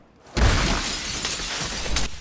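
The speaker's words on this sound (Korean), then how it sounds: "창문까지 뚫리고 맙니다" Window glass shatters during a stormy night, a sudden loud crash after a quiet moment, followed by a sustained spray of breaking and scattering fragments with no talk.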